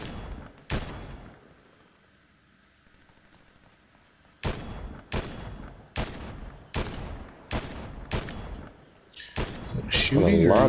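Gunshots from a weapon in the video game Fortnite, a pair of sharp blasts followed after a pause by a rapid string of six evenly spaced loud shots, ending with a burst of noisy overlapping fire.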